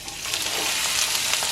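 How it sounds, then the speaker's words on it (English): Sliced onions and scallions fry in hot oil in a heavy skillet for a Guyanese vegetarian curry base, giving a steady, dense sizzle that holds at an even, fairly loud level throughout. "we're going to allow this to fry up until they get a little bit translucent as well"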